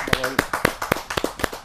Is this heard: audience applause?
yes